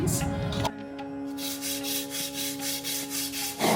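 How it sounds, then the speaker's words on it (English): Rhythmic rasping strokes of sandpaper lightly hand-sanding a vintage wooden panel, steady back-and-forth passes up close, with a faint steady hum in the background. "I'm going to start by lightly sanding this piece."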